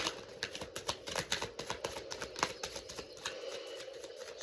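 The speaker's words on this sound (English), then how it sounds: "Let's do a full shuffle." Tarot cards being shuffled by hand, a quick run of crisp riffling snaps and flutters in an uneven rhythm, close and fairly loud, with no talking.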